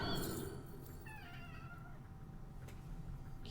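A cat meows in a short, faint rising call over a steady background hum, with a second softer mew following.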